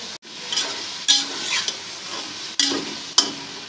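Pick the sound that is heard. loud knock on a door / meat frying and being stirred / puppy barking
meat frying and being stirred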